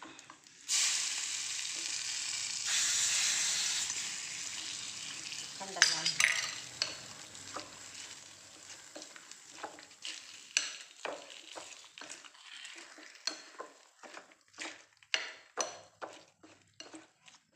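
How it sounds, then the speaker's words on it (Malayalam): A tempering of dried chillies and curry leaves fries in a pan for mango pickle, starting as a loud close sizzle that fades into a run of sharp clinks and scrapes of a spoon against the pan, with brief speech. "അപ്പം എന്നിട്ട് ഇതാ ഇതിലേക്ക് വറുത്തിടുന്നുണ്ട്"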